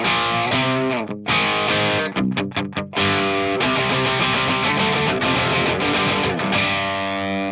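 A heavily distorted, high-gain electric guitar through an ML Sound Lab Amped Blackout amp rings out loud and sustained, with a few sharp choppy stabs before thick held chords return.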